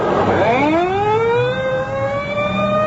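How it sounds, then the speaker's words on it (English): Ambulance siren in a radio drama, a steady wailing tone sliding downward in pitch as the vehicle pulls away, loud and fairly close, with a brief burst of crowd or traffic noise at the start. "The ambulance is pulling away."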